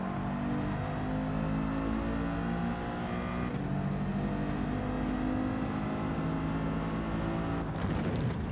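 A Mercedes race car engine in Gran Turismo 7 holds a steady, continuous drone throughout, running loud and close at near-constant revs with a brief shift in tone partway and near the end.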